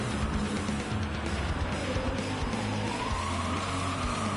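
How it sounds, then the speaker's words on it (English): Race car tyres squealing in Gran Turismo 7, a sustained rising screech layered over steady engine drone, loud and continuous throughout with no voices. "We've got a lot of tyre squealing."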